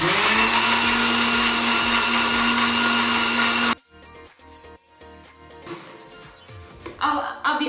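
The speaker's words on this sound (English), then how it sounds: "I'm just going to go ahead and switch on my blender" A kitchen blender whirs loudly and steadily as it blends lemon juice with oil, then cuts off abruptly, leaving quieter clattering and a person talking.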